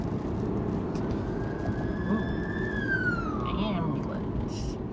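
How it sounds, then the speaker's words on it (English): An ambulance siren wails as it passes along a street, its rising and falling tone sweeping up and then dropping away, heard from inside a moving car over road rumble. "Ambulance."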